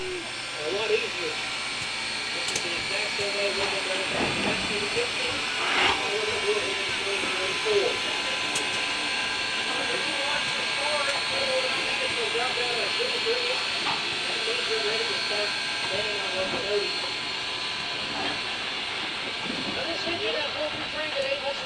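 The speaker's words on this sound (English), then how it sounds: "as a mainline freight hauling steam locomotive" A constant loud hiss of escaping steam from Southern Railway 630, a 1904 American Locomotive Company freight steam locomotive, fills the scene, with someone talking over it throughout.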